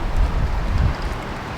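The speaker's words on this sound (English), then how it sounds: "It's just barely drizzling now." Light drizzle falling after a hail storm, a steady soft hiss of fine rain with faint low rumbling underneath and no talking.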